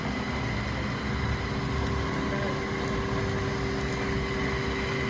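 A Bruder A60H RC dump truck with its electric motor at full throttle on a 7.4-volt battery gives a steady, loud, unbroken whine with a constant hum underneath.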